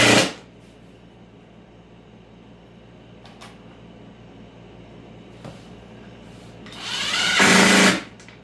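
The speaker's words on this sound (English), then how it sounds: "I got that piece all screwed down" A power tool whirs in a steady, low hum while driving screws into a panel in a car audio build with four 15-inch subwoofers in a Tahoe, ending in a brief louder burst.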